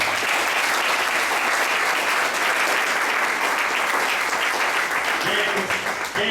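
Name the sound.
audience applause at a political meeting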